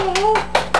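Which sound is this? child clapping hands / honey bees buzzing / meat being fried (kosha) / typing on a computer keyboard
child clapping hands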